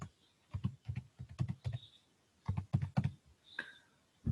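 Quiet computer keyboard typing as a username and password are entered, irregular bursts of light key clicks with short pauses between groups.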